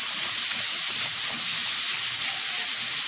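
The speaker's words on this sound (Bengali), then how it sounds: "দিয়ে দিচ্ছি বেটে রাখা পেঁয়াজ, পেঁয়াজটা একটু হালকাভাবে ভেজে নেব।" Mashed onion paste frying gently in a pan for a potato and dried lote fish curry, giving a steady, even sizzle that sits close and fairly loud with no one talking.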